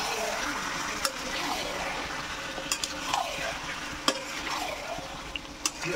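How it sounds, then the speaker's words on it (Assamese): Turmeric, spices and ginger-garlic paste are stirred in a sizzling pan for chicken biryani, a steady fry hiss broken by scattered scrapes and clinks of the spoon against the pan. "এতিয়া গোটেইখিনি মই ধুনীয়াকৈ মিক্স কৰি ল'ম।"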